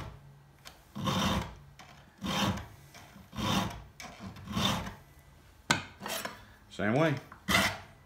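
A hand file sharpens chainsaw teeth in a steady series of rasping strokes, about one per second, close and fairly loud, with a brief spoken remark partway through.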